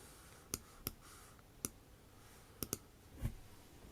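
Sharp, isolated computer mouse clicks, single and double, scattered at irregular intervals in a quiet room while someone works on a digital writing portfolio.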